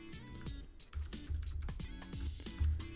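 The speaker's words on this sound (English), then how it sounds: "you just type in your Gmail" Quick clicking keystrokes on a computer keyboard as an email address is typed into a login field, close and fairly quiet, in irregular bursts with no speech.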